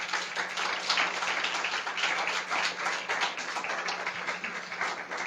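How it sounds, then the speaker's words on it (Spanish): Steady applause from a church congregation, dense clapping sustained at an even level throughout, with a low electrical hum underneath. "¿Cuántos pueden darle un aplauso al Señor?"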